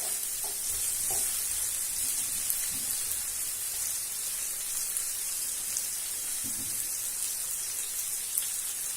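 Chicken fries in a pan with a dense, steady high sizzle like light rain, constant throughout, with a few faint stirring knocks early and midway.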